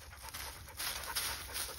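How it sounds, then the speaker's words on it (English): A dog pants rapidly and steadily while chasing a skunk up a tree outdoors, breathy rhythmic huffs heard close against a hissy background. "And this goofy dog is right after him."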